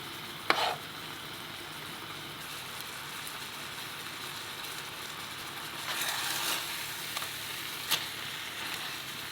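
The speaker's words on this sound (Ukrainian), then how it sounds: "викладаємо у вершковий соус м'ясо. Зверху поливаємо підливою і готуємо 10 хвилин на повільному вогні" A steady, soft sizzling and bubbling hum from chicken breast simmering in cream sauce in a pan on low heat, continuous with a few faint clicks, no voices.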